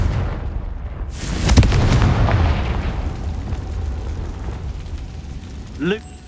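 A Confringo blasting spell goes off in Hogwarts Legacy, a loud burst with a rumbling boom that fades slowly, followed by a short rising magical whoosh near the end.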